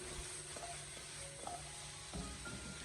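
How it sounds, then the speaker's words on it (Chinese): Chicken feet stir-fried with soy sauce in a wok, a quiet steady sizzle with repeated light spatula scrapes and tosses at close range, no talking. "再继续的给它翻炒一下，把酱油的酱香味给它翻炒出来"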